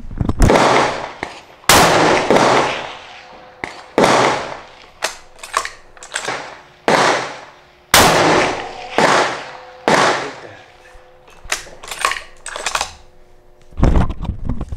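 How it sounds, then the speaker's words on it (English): Ruger American rifle in 300 Blackout firing at a 700-yard target: a series of sharp, loud reports with long reverberant tails, spaced unevenly with several smaller clicks and impacts between them and no voices. "we're going to finish off the last three shots and see can I stay on target"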